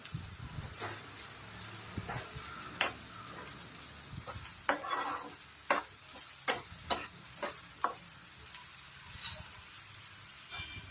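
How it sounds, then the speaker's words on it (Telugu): A spoon stirring a curry in a pan, giving quiet, scattered scraping and tapping strokes over a faint low sizzle, with sharper clicks bunched in the middle. "ఒకసారి మళ్ళీ కలుపుకోవాలి."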